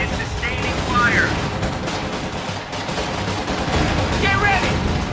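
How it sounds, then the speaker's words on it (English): Dense battlefield gunfire from Company of Heroes 2: Ardennes Assault, a steady clatter of rifle and machine-gun bursts with distant booms filling the whole stretch, while voices shout faintly in the mix. "One of our fighting positions is sustaining fire."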